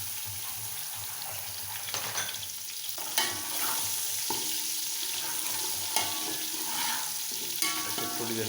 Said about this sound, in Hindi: इसको थोड़ी देर के लिए फ्राई करते हैं।